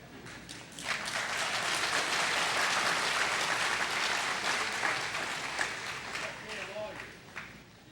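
A crowd at an AA jamboree applauds the speaker with thick, continuous clapping that gradually thins and fades, and a voice comes through near the end.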